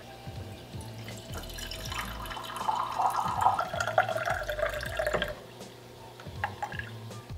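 Water runs steadily into the bottom chamber of a moka pot, a bright pouring trickle that swells mid-clip and stops near the end, with soft handling knocks before and after; close and moderately loud.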